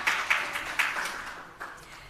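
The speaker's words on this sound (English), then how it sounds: "you're getting applause from this side of the world" Scattered applause from a small audience at a national health research conference, a few sparse claps with gaps between them that taper off quickly.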